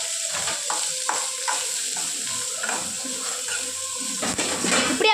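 Oil sizzles in a pan while potato podimas cooks, giving a steady, close frying hiss broken by light scrapes and taps of stirring.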